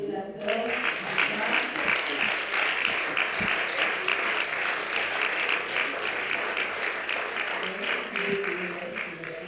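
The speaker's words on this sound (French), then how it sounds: "On peut encore applaudir la sœur." An audience applauds a speaker at a religious talk, a steady wash of many clapping hands that stays fairly even for nearly ten seconds, with faint crowd murmur underneath.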